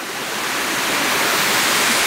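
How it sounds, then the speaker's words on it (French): A waterfall on the Grosse Roche ravine in Lorrain, Martinique, roars in a steady, dense wash of rushing water that stays close and loud and grows slightly louder throughout, with no voices. "Yeah, on a réussi les premières cascades."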